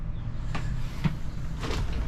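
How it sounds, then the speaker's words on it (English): A tambour door slides on the washroom of a family motorhome, giving a few soft, low rattling rolls and faint clicks with no voices. "tambour door."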